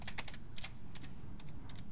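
Rapid keystrokes on a computer keyboard entering a spreadsheet shortcut, a quick cluster of close, crisp clicks in irregular bursts with no talking.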